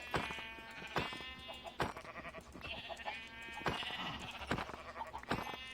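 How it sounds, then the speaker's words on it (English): Flocks of sheep in Minecraft 1.19 survival bleat over and over, overlapping pixelated baa calls at a steady, quiet level, with no voices. "Let's slaughter some of these sheep"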